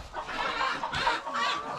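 Farmyard chickens cluck repeatedly in a steady run of short calls, fairly close and loud, with no voices.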